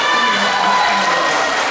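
An audience at a community festival's closing awards ceremony claps and cheers, a dense, steady wash of applause with no talk.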